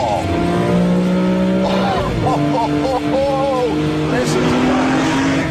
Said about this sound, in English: And then there's the noise. Can you hear that?